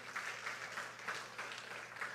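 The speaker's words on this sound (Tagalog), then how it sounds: "Pumalakpak ang mga anointed worshiper" Soft, distant clapping from a church congregation of worshippers, steady and low in level with gentle swells.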